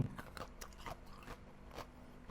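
Close, quiet bites and crunching into a hard old-style Thai ice cream bar, several sharp clicks and crunches spaced irregularly with no talking.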